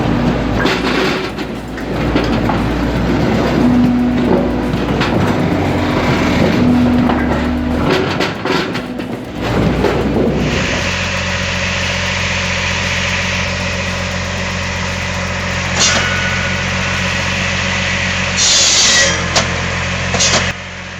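A gas-powered Vario firewood processor with 17 tons of splitting force runs its engine in a steady, loud mechanical drone that shifts to a smoother, more even hum partway through, with occasional knocks and clatter.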